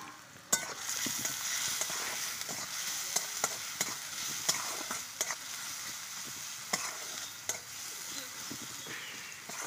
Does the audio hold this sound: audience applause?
no